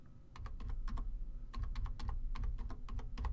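Computer keyboard keys tapped out in several quick bursts of clicks with short pauses between, close and clear over a low background hum, no talking.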